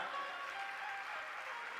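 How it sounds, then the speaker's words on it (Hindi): An audience at a religious discourse claps continuously, a dense, even patter heard from a distance at low volume. "तालियां कुछ ज्यादा तो नहीं बजा रहे हैं आप।"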